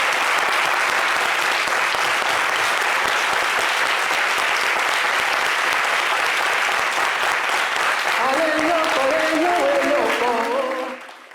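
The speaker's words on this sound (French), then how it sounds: "pour qu'on honore la mémoire de Valérie par des applaudissements, bien sûr." A standing audience applauds loudly and steadily in tribute at a live entertainment show, the dense clapping sustained throughout and fading out at the very end as a melodic voice or instrument rises near the close.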